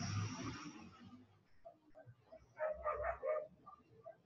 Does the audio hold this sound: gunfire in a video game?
no